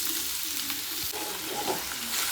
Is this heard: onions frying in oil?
yes